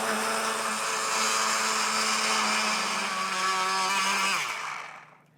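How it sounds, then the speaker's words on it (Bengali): A blender whirs steadily at close range, grinding grapes with half a glass of water into grape juice, then winds down and stops near the end, with no one talking. "এখন আমি ব্লেন্ডার মেশিনে ব্লেন্ড করে নিচ্ছি।"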